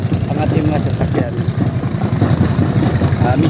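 Vehicle engines idle near a pier in strong wind, a steady low rumble that runs through the whole stretch, with gusty noise and a faint murmur of voices mixed in.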